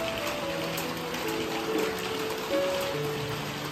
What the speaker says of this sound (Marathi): रिमझिम रिमझिम पाऊस पडतोय